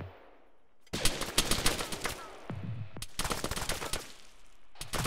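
Gunfire inside a building in Arma 3 comes as two loud bursts of rapid automatic shots with a short pause between them. A brief dull thud falls in the gap, and a quieter burst begins at the end.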